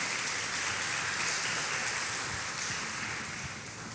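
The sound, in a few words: audience applause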